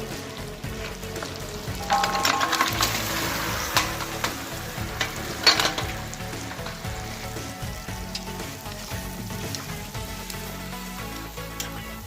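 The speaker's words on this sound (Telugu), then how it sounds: "ఫ్రెండ్స్ ఇప్పుడు మనం తలకాయ కూర బోట్లో వేసుకుందాం" Goat head curry and tripe frying together in a pan crackle with a dense, rain-like sizzle, strongest after the first couple of seconds with a few stirring scrapes, then settling into a steady hiss, near and without speech.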